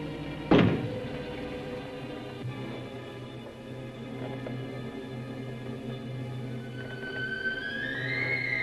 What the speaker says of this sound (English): Knock once if you hear me.